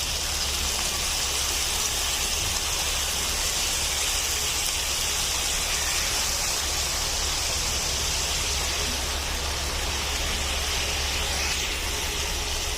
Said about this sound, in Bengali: পানি অ্যাড করে দেব